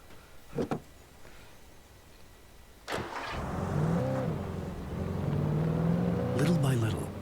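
A car engine in Alan Wake Remastered cranks and catches, then settles into a steady idle that swells as it revs, heard close after a couple of short clicks, with a voice talking over part of it.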